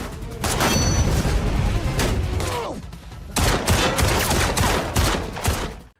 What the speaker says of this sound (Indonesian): Mereka masih saling melepaskan tembakan